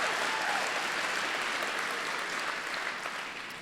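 Sustained audience applause at an evening of poetry and music, a dense, steady wash of many hands clapping that fades slightly toward the end, with no talk over it.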